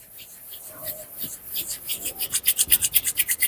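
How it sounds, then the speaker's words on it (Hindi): Two palms rubbed briskly together to build warmth, a dry rasping swish that starts soft and grows into a steady, quickening rhythm of close strokes, loudest toward the end, with no talking. "पामिंग थेरेपी में हम दोनों ही हथेली को इस तरीके से रब करेंगे। जब तक ये गर्म ना हो जाए तब तक इसे रब करना है।"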